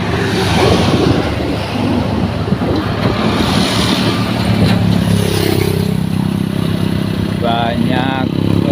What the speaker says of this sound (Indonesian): para pengemudi baik roda 4 maupun roda 2 yang melintasi di kawasan ini